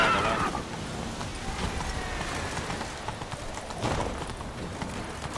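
Roach, a horse in The Witcher 3, trots with a steady clip-clop of hooves running throughout, moderately close, with a faint game soundscape underneath.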